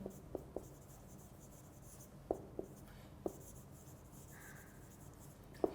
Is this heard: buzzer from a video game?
no